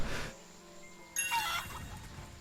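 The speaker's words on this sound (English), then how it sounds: "little chicken" A chicken in the online game ArcheAge gives a short burst of fowl clucking and squawking partway through, moderately loud over faint game ambience, with no speech.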